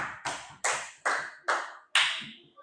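Classroom applause for a student group: five short, sharp bursts of clapping in an even rhythm, close and clear with no talk over them.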